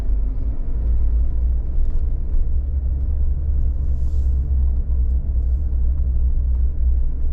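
Car driving through a neighborhood in Wilmington, Delaware, a steady loud low engine and road rumble heard from inside the cabin, continuous with no breaks.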